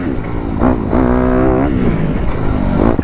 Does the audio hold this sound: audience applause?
no